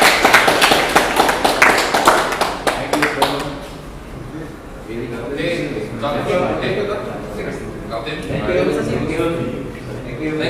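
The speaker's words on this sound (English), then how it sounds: "Round of applause to our FDMS College for this ongoing support for MABA and the latest basketball" Audience applause at a national junior basketball championship event, a dense burst of clapping for the first few seconds that fades into murmuring crowd chatter and talk.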